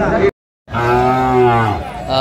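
A Sahiwal bull at a cattle market in Chittagong gives one loud, drawn-out moo close by, just after a brief sound and a short silence.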